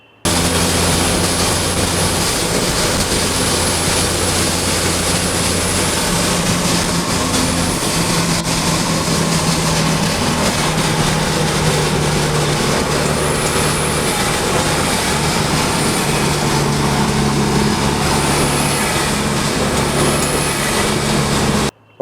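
Loud, steady broadband drone inside a car cruising at highway speed, with road and wind roar filling the cabin continuously from start to finish and no voices.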